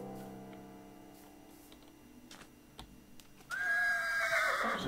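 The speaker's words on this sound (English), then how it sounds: "Is that a white horse or..." A horse in a Minecraft-style video game gives a loud whinny that starts partway through and carries to the end, over a faint, quiet game background.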